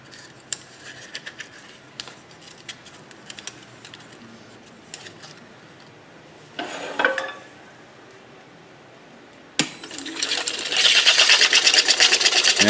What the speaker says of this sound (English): And that's how you sand the inside of the ring.